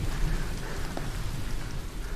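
Steady rain falling heavily on a surface, a dense continuous patter with a low rumble beneath, close and unbroken, with no voices.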